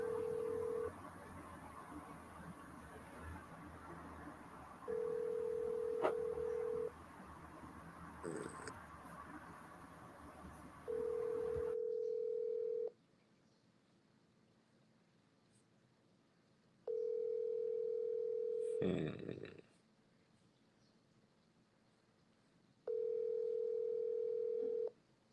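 A telephone rings back while a call goes out to a seller: a clear electronic tone sounds in even bursts about every six seconds, with a short burst of handling noise between the rings.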